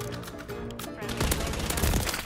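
RAM-9 submachine gun fire in the video game Call of Duty: Modern Warfare: rapid, dense bursts of shots that swell louder partway through, all packed into a couple of seconds.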